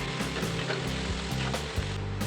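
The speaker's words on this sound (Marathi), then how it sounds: "आता आपण वाटलेला जो मसाला आहे तो याच्यामध्ये आपण टाकूया। चांगला परतून घेऊया मसाल्यामध्ये।" Ground masala paste sizzles and fries with softened tomatoes in a pan for gawar bhaji, a steady close crackle with faint stirring scrapes and no voices.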